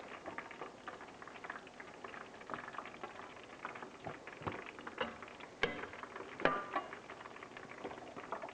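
Leaf lard rendering in a pot after about two hours of cooking, fat bubbling and popping in a soft, irregular patter with occasional sharper crackles, faint and close.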